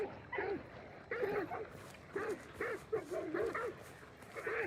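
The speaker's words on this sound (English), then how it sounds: "Dog's making noise" A dog in a video game barks and yips repeatedly in short bursts at an irregular rhythm, moderately loud against a low background of game noise.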